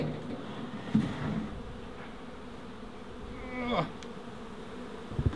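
Honey bees buzz around a hive during a brood comb swap from a cut-out colony, a soft, steady hum with a few closer passes of individual bees flying near.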